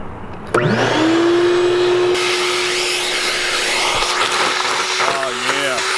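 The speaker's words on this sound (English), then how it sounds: "So I'm gonna take the vacuum real quick, just vacuum all these iron chips out." A 6-horsepower shop vacuum switches on with a loud start and runs with a steady whine, sucking up iron chips around a BMW E30 sunroof opening, with rattling pickups and a little talk near the end.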